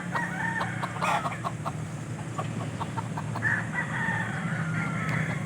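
A red junglefowl (labuyo) rooster crows twice nearby, both rather faint, over a constant low rumble of background noise.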